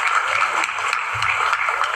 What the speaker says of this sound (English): You're getting a bigger applause than I am.